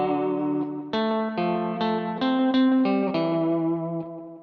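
Clean electric guitar run through an echo programmed on a Line 6 HX Stomp, playing a short melodic phrase of sustained, ringing notes with repeats smearing into a continuous wash, loud and alone.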